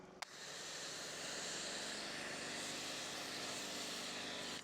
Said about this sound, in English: Just use it like a normal pressure washer attachment. Get the wheels, rinse everything off.